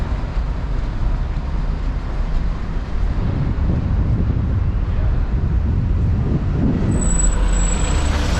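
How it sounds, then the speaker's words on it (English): Steady low rumble of wind buffeting a microphone outdoors in Cardiff on a windy evening, loud and continuous throughout, with no voices. "Apologies for any wind noise."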